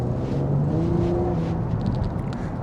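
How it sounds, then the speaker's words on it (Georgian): Chevrolet Camaro V6 engine roaring as the car accelerates, a steady droning note that rises in pitch and holds near and loud, heard from inside the car with no talk. "6 ცილინდრიანი ძრავი ზმუის."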